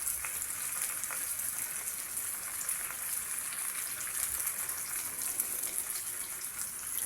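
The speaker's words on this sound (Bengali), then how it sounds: "সবগুলো মাছই আমি একবারেই দিয়ে দিচ্ছি যাতে কোনো ফ্রাইভেনটা অনেক বড় অনেকগুলো মাছ ফ্রাইভেনটা ধরে যায়" Several fish sizzle in a large frying pan, a steady, even hiss of hot oil with no breaks, moderately quiet and heard alone.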